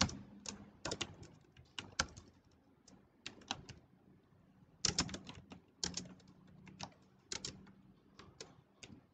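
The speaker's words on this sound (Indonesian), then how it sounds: "Di sini kita bisa ketikkan" Steady computer keyboard typing with short bursts of clicking keystrokes and brief pauses, close and moderately loud in a quiet room while a report is entered in a database program.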